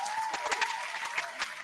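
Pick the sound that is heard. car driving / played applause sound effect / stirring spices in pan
played applause sound effect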